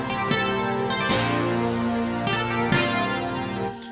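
Dry synthesizer part from a 1985 pop-rock hit plays alone: layered chordal synth tones with punchy rhythmic hits recurring every second or so, loud, dense and close.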